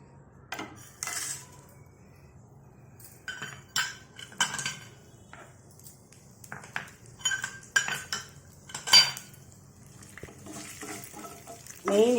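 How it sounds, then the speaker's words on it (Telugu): Spices being tempered in oil in a pan for a chutney, heard as scattered metal clinks and scrapes of a spoon against cookware with a faint sizzle underneath, fairly close and without talk. "పోపు వేసుకొని రెడీగా పెట్టుకుందాం."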